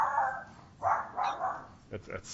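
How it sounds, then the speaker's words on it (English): A dog barks indoors in a few short, sharp yaps at moderate distance, spaced irregularly across a couple of seconds, with faint background sound between the barks. "That's my dog running in there."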